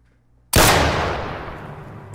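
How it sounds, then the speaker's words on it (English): One loud, sudden gunshot, close and sharp, with a long decaying boom and rumble trailing off over more than a second, no talking over it. "when I heard what seemed like the loudest gunshot I've ever heard"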